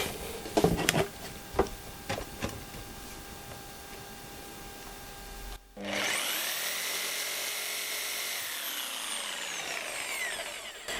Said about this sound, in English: It's quite a fine blade for a clean cut with hardwood.